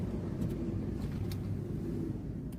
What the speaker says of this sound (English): the fire truck just went that way without any lights or sirens